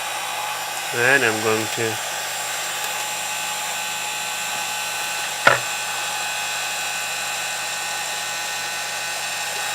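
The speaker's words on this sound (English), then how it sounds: "Heat guns are extremely hot and it could easily burn your hands" Heat gun blowing steadily at close range while a Garmin Nuvi 1490 touch screen is being replaced, a constant whirring hiss that runs throughout as someone speaks briefly near the start.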